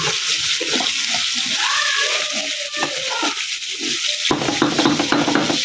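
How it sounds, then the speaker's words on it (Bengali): Water is poured into a pot of rice being fried for a chicken biryani, a steady broadband sizzle and splashing rush that surges louder near the end, with no talk over it. "দিয়ে দিব পরিমাণ মতো পানি।"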